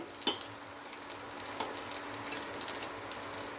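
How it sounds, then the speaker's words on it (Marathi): Poha kurdai, a puffed rice-flake papad, frying in hot oil with a steady close sizzle and crackle and a couple of sharper pops, no voices. "तेल गरम करून घेतलं कुरडई आता मी फ्राय करते"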